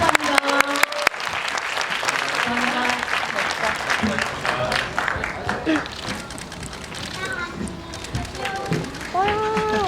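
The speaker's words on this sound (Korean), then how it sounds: "함께 자리해 주신 배우분들에게 같이 큰 박수 치면서 이 자리 마무리하도록 하겠습니다" A theatre audience claps for the actors at the close of a talk event, dense applause mixed with crowd chatter and voices, with a few sharper claps at the start.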